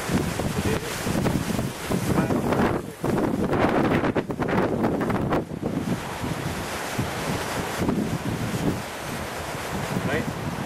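Strong wind buffets a beach campsite, roaring gusts hitting the microphone over crashing surf, loud and unbroken throughout, with someone talking at moments.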